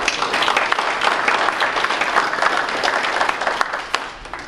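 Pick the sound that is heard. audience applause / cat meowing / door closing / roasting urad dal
audience applause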